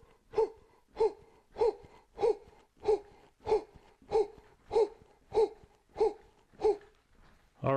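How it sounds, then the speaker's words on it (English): Rhythmic voiced breaths are drawn during a relaxation routine, each one short and gasp-like. Eleven of them come at an even pace about every 0.6 seconds, close and moderately loud. "Okay, the breathing."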